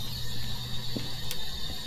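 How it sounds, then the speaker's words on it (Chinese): An electric fan in the horror game Phasmophobia gives a faint, steady low hum, with a couple of soft mechanical clicks over it. "他真的是打开这个电风扇就会有嗡嗡的声音。"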